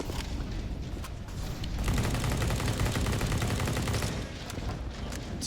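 Rapid gunfire bursts and taps ring out in a CS:GO match on the Nuke map, dense and loud throughout, with the heaviest overlapping volley in the middle.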